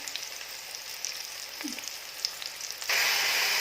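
Spinach and egg sizzle and crackle in a pan as they are stir-fried, a steady close hiss that jumps louder and brighter near the end as more ingredients hit the hot oil.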